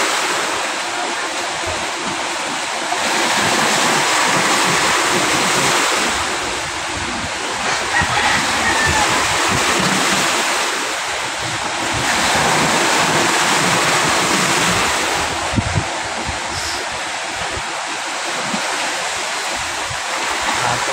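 Big monsoon waves on Manila Bay at Navotas surge and wash in a continuous loud rush, swelling every few seconds, with gusty wind on a drizzly day.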